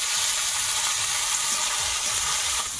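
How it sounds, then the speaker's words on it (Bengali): Onions sizzle hard in a hot pan with spices, a loud continuous frying hiss close to the listener with occasional stirring. "পেঁয়াজটা ভেজে নেবো, সব মশলা মাখিয়ে দিয়েছি, পেঁয়াজটা ভাজবো"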